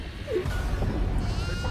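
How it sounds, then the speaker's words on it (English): A goat bleats in a horror video game, a few short wavering cries over a low rumbling background, fairly faint and brief. "There's a goat right here!"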